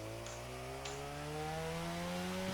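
A modified Mazda RX-7 engine revs high close to its rev limiter, a faint, steady drone whose pitch climbs slowly and evenly.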